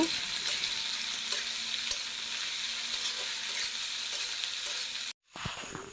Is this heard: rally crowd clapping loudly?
no